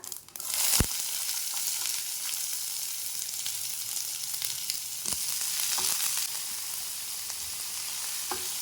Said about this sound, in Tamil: கட் பண்ணி வச்சுருந்த வெங்காயத்தை ஆட் பண்ணிக்கோங்க